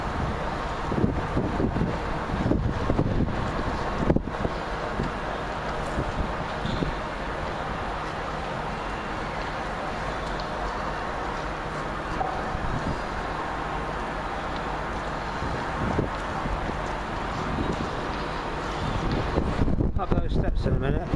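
Wind buffets the microphone in London, a loud continuous roar with gusty rumbles that swell near the end, and people talk faintly underneath.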